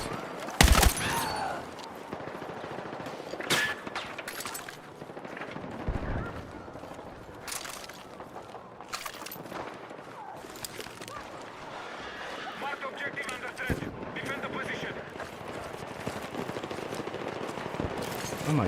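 Video game gunfire: sharp bursts of automatic and single shots crackle at uneven intervals, moderately loud, with a person talking over them at times.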